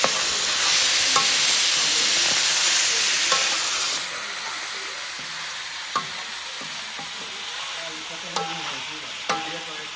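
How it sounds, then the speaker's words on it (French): Onions fry in a hot pan with a loud, dense sizzle that settles into a softer steady hiss, broken by a few sharp clicks of stirring utensils close by. "Ah, c'est bon, on met tout de suite les oignons."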